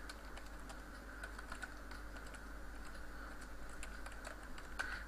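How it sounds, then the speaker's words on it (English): Computer keyboard typing, a steady run of light clicking keystrokes, close and fairly quiet over a constant low hum. "in first case I'll type keyboard dot up"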